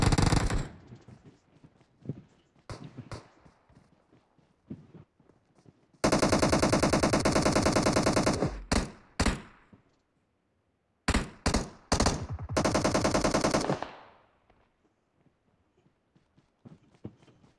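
Automatic gunfire in the mobile game PUBG Mobile, with several long sustained bursts and a few short volleys and single shots separated by quiet gaps, loud and close.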